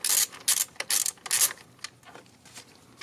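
A ratchet loosens a bolt on a BMW B58 fuel injector assembly, giving several quick metallic clicking bursts close up, then fainter scattered clicks as the turning slows.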